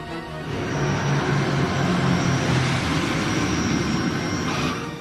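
An inbound airliner lands on runway 02 at Kathmandu airport: a loud, continuous broadband engine roar that swells in, holds steady for several seconds, then eases off slightly at the end, with no talk.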